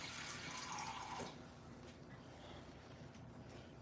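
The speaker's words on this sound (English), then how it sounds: "And I'm just gonna add a little more water" Water poured from a tap into a pan of gravy for Salisbury-style meat patties, a steady splashing rush for about a second, then a quieter running trickle and bubbling.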